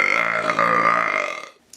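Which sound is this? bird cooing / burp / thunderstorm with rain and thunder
burp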